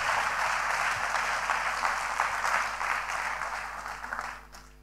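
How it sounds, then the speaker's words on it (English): A church congregation claps their hands during a worship service, the clapping loud and dense at first, then thinning out toward the end over a low steady hum. "Zayada, clap your hands"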